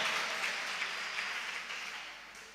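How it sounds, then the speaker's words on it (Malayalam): Audience applause, a steady wash of many hands clapping at moderate distance, fading slightly toward the end. "നല്ലൊരു ക്ലാപ്പ് കൊടു"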